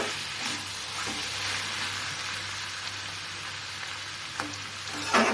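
Cucumber curry with oil and turmeric stirred in a pan, a constant close sizzling hiss with occasional light spatula scrapes and a louder stir at the end, no speech.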